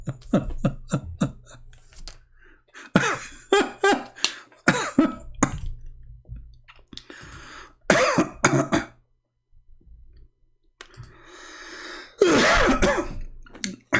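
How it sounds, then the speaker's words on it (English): A man repeatedly clears his throat and coughs close to the mic in short bursts, with quiet breathing between them and no speech. "I apologize if I cough."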